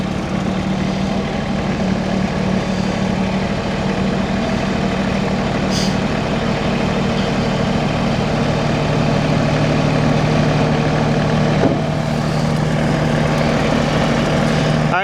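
A tractor with a front bucket idles steadily nearby while dirt is moved between garden beds, a low, even engine drone running throughout with little change in level.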